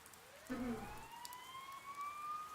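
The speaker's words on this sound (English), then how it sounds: "Sirens?" Police sirens in the video game Persona 4, a faint wailing tone slowly rising in pitch and holding, heard through soft rain-like background hiss after a brief musical sting.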